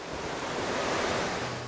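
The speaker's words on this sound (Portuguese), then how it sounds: "a gente consegue escutar um barulho que vem lá de fora, é o som da água" Water rushing from a waterfall in the rural countryside of Pelotas, heard from a balcony as a steady, dense roar of white noise, moderately loud and unbroken.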